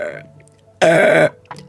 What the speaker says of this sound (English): I just hiccuped and burped.